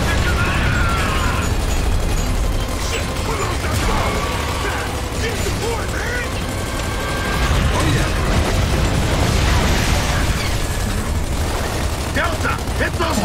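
Heavy mortar blasts and gunfire in Gears of War 2 form a dense, continuous roar of booms and bursts with mechanical clatter, with shouted voices layered over the combat throughout.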